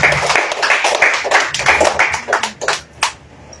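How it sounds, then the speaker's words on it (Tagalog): Congregation at a church service clapping in unison, a brisk run of sharp, rhythmic claps close by that thins out into a few scattered claps at the end. "Ay palakpak ninyo sa Lord"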